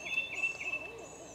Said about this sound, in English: Those owls are really sounding off up there.